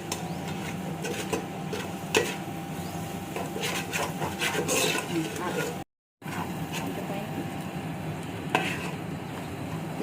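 Coriander paste stirred into hot oil in a pan for coriander rice, giving a steady scraping, rubbing stir with a soft sizzle underneath, broken by a brief silent gap midway.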